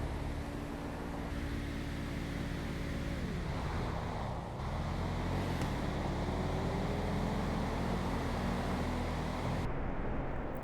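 Engines in a Grand Theft Auto drag race between a Chevrolet Nova and an Infiniti G35 roar loudly and continuously, with engine pitch climbing through gear changes as the cars accelerate down the strip.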